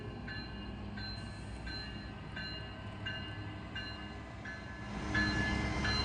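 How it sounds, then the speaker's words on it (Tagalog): A long train rolls steadily past in Skagway, Alaska, a continuous rumble with faint repeating wheel clicks and squeals, at moderate distance and growing a little louder toward the end. "Haba ng train."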